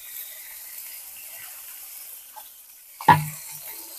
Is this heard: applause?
no